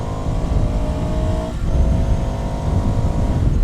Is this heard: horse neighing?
no